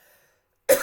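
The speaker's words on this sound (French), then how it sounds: "Excusez-moi, je vais tousser." A short, sharp cough erupts abruptly after near silence, close to the microphone and fairly loud, cut off after a fraction of a second.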